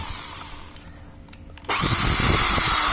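Faint background hum and a few small knocks, then a Tekiro RYU RDR 10-3 RE 10 mm electric drill starts suddenly and spins loudly and fast to the end.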